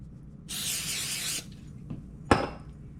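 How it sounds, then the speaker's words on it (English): Cooking spray hisses onto a spatula in one steady burst of about a second, followed a moment later by a sharp clink of the utensil. "If you spray your spatula,"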